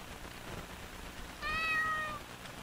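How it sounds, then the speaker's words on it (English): A cat in the horror video game Ao Oni gives a single clear meow, rising and sustained for under a second, heard alone over a quiet ambient background. "Oh, a cat!"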